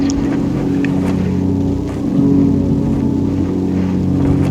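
A steady, loud rumbling rush with a low droning hum in the video game Journey, continuous throughout and swelling slightly halfway, like sliding across sand; no talking.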